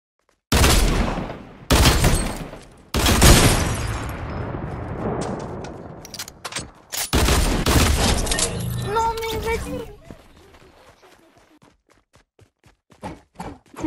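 Semi-automatic sniper rifle shots in a shooting video game, a series of loud, sharp cracks spaced a second or two apart, each with a ringing, decaying tail, followed by quieter clicks and brief talk.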